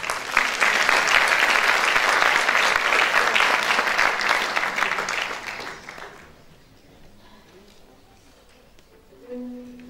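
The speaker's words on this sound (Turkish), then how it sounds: "Korumuzun en genç üyesi, alkışlarınızla mikrofonda Tuğba Kaya." Loud, dense audience applause fills a choir concert hall for about six seconds, then fades away to quiet room sound before a brief tone at the end.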